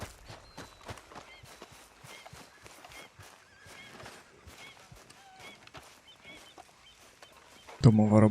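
Horses clip-clop steadily at a walk in the open-world western video game Red Dead Redemption 2, with faint rhythmic hoofbeats and ambient game sounds, ending in a sudden louder burst.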